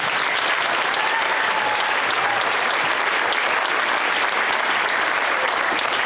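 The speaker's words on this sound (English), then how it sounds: "if you would give them a round of applause too, please" An audience at a band concert gives a thick, continuous round of applause, loud and even across the whole stretch, with a faint whistle or cheer rising through the clapping.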